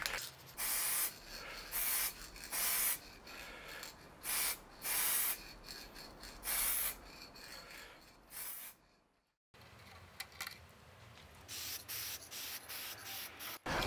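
An aerosol can sprays paint onto car mirrors in repeated short hissing bursts, then pauses briefly before softer, evenly spaced bursts resume, close and clear.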